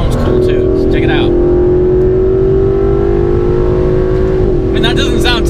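An Aston Martin DB11 engine accelerating in sport plus mode holds a loud, rising drone, then drops in pitch briefly near the end as it shifts gear, with a brief voice heard at the start and the end.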